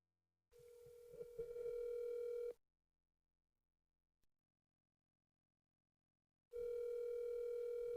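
A telephone ringback tone plays two long, even bursts separated by a silent gap, steady and clean without voices.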